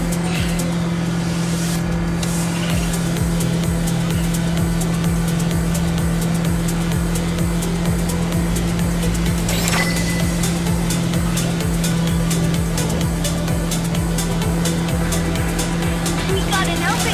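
A car drives through the video game Neverness to Everness, its engine humming loud and constant under layered game sound effects and music, with voices speaking over it.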